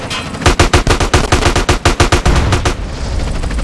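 Rapid automatic gunfire from a shootout with enemies in Grand Theft Auto San Andreas, a dense run of loud, evenly spaced shots lasting about two and a half seconds before cutting off into a low rumble.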